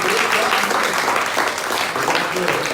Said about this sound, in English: No, round of applause